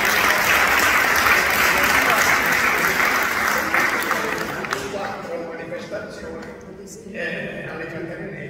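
A crowd at a Festa delle Caterinette gathering in Trani applauds Rino Franco with loud, dense clapping that tapers off gradually, leaving quieter scattered claps and murmuring at the end.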